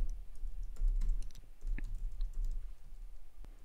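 Keys clack in a quick, irregular burst of typing on a computer keyboard while code is entered, close and fairly quiet, with brief pauses between clusters of strokes and no voices.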